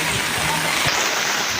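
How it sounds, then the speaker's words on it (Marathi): Heavy rain pours over flooded streets in Nalasopara, a steady, dense hiss of water filling the whole scene without a break and without any voices. "ते पाऊस पडलेला आहे तो."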